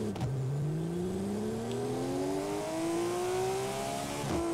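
A 1990 Porsche engine revs and climbs through the gears in the racing video game Forza Horizon 4, a continuous loud whine rising in pitch with a brief dip at a gear change.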